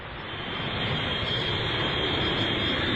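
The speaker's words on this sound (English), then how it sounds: "as Wonder Woman pilots her robot plane out to the heart of Africa" Robot plane flying in a Wonder Woman audio drama, a steady, loud airplane engine roar that swells slightly and then holds constant with no talking.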